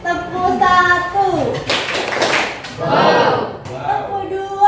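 Schoolchildren in an Indonesian classroom perform a teacher-led clapping pattern: chanting voices give way to two dense bursts of many hands clapping together in the middle, then the voices return.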